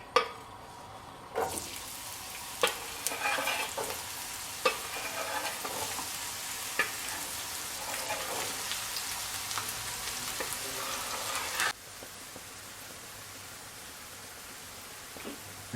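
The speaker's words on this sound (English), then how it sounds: "Good amount of olive oil. Don't be shy. Put in the onion and garlic." Onion and garlic fry in a generous pour of olive oil, a steady close sizzle broken by sharp spatters and occasional stirring clicks, ending abruptly into a quieter hiss.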